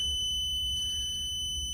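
A steady high-pitched electronic tone sounds continuously, thin and piercing, over a low background hum, as a Suzuki Samurai's lights are turned off.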